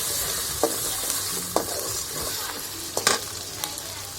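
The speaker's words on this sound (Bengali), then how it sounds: "ভালোভাবে আদাটা দিয়ে ভালোভাবে লাড়া দিয়ে দেবো।" Onion and ginger stirred in a frying pan, a steady hiss of frying under sharp scraping strokes of the spoon that come every second or so, close and clear with no voices.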